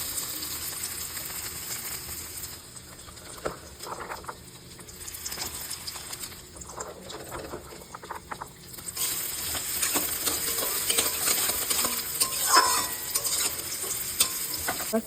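Vegetables sizzle in hot oil in a pan for chow mein, with a steady frying hiss throughout and intermittent scraping stirs, growing louder and busier in the second half.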